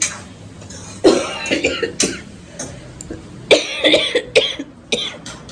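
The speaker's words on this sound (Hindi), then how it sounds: "खांसी अभी भी है" Several sharp coughs in short bursts, close by, with brief pauses between them and a few rough throat-clearing sounds.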